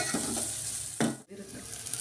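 Coconut-coriander paste with onion and tomato sizzles steadily in a hot pan, with a louder stirring scrape partway through and a momentary break before the frying hiss carries on.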